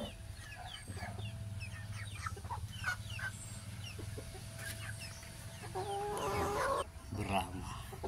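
Sebright and Silky chickens cluck and chirp in scattered short calls over a low background hum, with a burst of louder overlapping clucking near the end.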